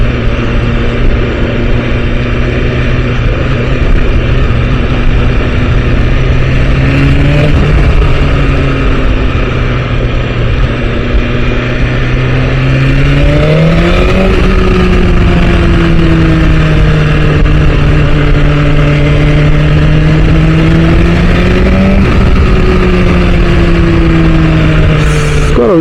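BMW S1000RR motorcycle engine in first gear on a first ride, loud and continuous, revving up and down with rising and falling pitch sweeps close by.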